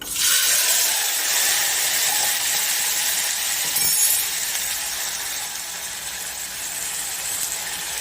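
Green peas tipped into hot oil tempering with asafoetida and curry leaves sizzle loudly and steadily for several seconds, a dense bright hiss with a brief flare midway, no talk over it.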